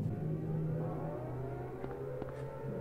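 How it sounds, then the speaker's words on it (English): A siren or air horn in the Silent Hill video game holds a steady, low, droning tone that stays faint and distant throughout, with a couple of brief sharp ticks near the end. "That air horn?"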